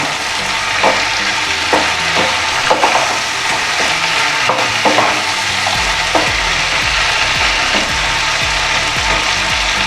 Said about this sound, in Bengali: এবার সব শুদ্ধ কষানো হোক